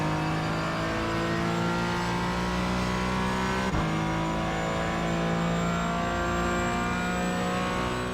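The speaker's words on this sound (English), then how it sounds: "And on the throttle, and out we go." Porsche Cayman GT4 engine in the iRacing sim at Suzuka, a steady loud drone whose pitch climbs through the gears, with one abrupt shift midway before it rises again.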